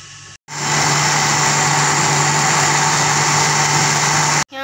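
A blender whirs steadily at high speed as it grinds bananas and milk into a milkshake, loud and close, starting abruptly after a short pause and cutting off at the end.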